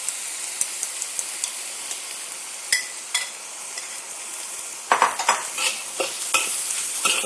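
Vegetables for fried rice sizzle loudly in a hot cast iron wok, with a continuous hiss punctuated by scraping, clanking stirs and tossing, and no talking.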